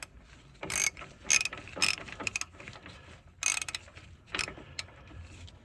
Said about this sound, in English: For those of you that just wanted the sound of a ratchet working, you're welcome.